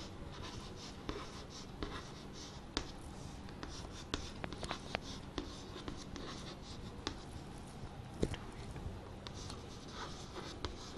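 Pen or pencil scratching numbers by hand on paper during a fourth-grade maths lesson, a close, quiet run of short strokes and taps with small pauses between figures.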